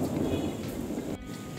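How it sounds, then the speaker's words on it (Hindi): Steady rain with a low thunderstorm rumble fills the whole stretch, loud and close, briefly dipping near the end, with no talk over it. "बहुत ही ज़बरदस्त किस्म का मौसम है और बारिश हो रही है"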